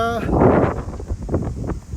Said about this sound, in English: God, well, that was a good gust.